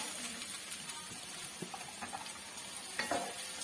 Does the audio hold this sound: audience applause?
no